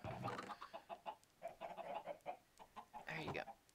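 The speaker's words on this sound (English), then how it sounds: "Okay, my chickens are not loving life." Chickens in a video game cluck in a quick, busy series of short calls, fairly close and clear, with brief pauses between bursts.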